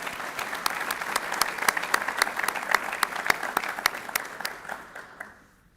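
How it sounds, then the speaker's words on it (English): An audience at a university college award ceremony applauds students, a sustained crowd clapping with some sharper individual claps standing out before it tapers off near the end. "Let's give these students another round of applause."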